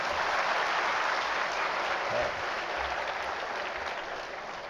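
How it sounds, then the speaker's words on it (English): An auditorium audience applauds at an inspirational talk, a dense steady wash of many hands clapping that holds strong, then slowly thins and fades toward the end. "Come on, you ought to clap."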